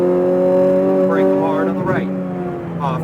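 Race car engine on a racetrack, its steady harmonic drone shifting pitch as the throttle comes on and off between braking, loud and close throughout while a coach's voice talks over it.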